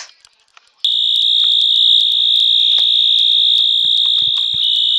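A shrill, continuous electronic fire alarm in Roblox blares loudly after a short quiet start, holding one piercing tone with faint clicks underneath.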